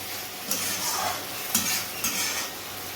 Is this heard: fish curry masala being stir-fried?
yes